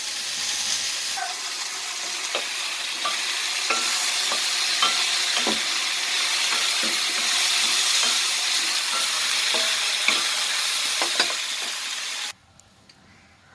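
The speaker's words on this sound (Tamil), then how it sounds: "200 கிராம் வெண்டைக்காய் கீழே தான் போட்டுருக்கேன்" Okra, 200 grams of very mature pods, sizzles steadily in a pan for an okra tamarind curry, with soft scraping stirs and occasional clinks throughout before the sizzle cuts off abruptly near the end.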